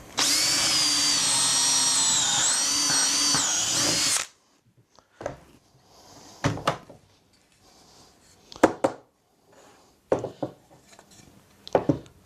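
A power drill whirs loudly and steadily for about four seconds while drilling pocket holes in wood for a stool, then stops, followed by scattered knocks and clatters of wood being handled.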